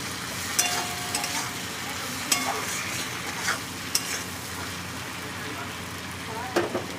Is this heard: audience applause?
no